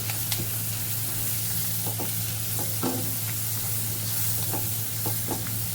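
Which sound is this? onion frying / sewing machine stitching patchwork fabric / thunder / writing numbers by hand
onion frying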